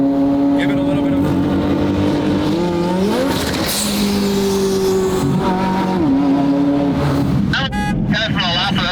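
Very loud McLaren 720 GTR race car engine tuned to about 1300 horsepower, roaring and revving continuously with rising pitch sweeps as it shifts, heard up close behind the car throughout.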